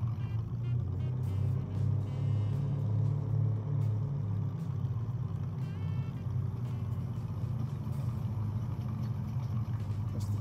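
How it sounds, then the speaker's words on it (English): Train in the Farming Simulator 19 video game, a steady low rumble that drones continuously throughout, loud and sustained with no pauses. "That's the train I can hear."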